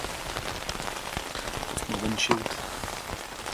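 Rain falls steadily on a tent in the Lake District, a dense, even patter with occasional louder drops, while someone speaks briefly and quietly underneath.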